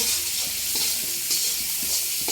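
Dried chili powder is stirred into oil in a sizzling pan, a steady bright hiss of frying with soft scraping strokes of the spoon running underneath throughout.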